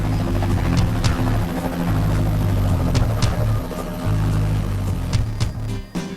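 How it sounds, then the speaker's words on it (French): A Boeing AH-64 Apache military attack helicopter flies past, its engine and rotor making a loud, continuous drone with a steady rhythmic throb that holds throughout and fades slightly at the end. "Le Cheyenne est un hélicoptère extraordinaire"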